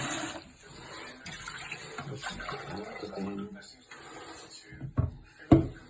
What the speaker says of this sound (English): Just making sure it's running from the cold tap.